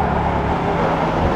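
A Bugatti Chiron's quad-turbo engine on a New York City street gives a brief, steady, close rumbling roar with no talking.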